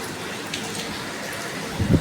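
Heavy rain falls as a steady, soft broadband hiss with no pauses, and a brief, louder low rumble swells near the end.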